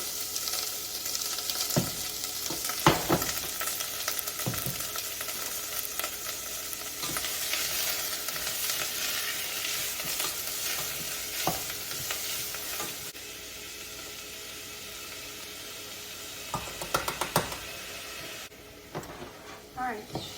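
Onions sizzling and frying in a very hot pan, a steady loud hiss with occasional stirring clatters and utensil knocks, a voice speaking briefly over it.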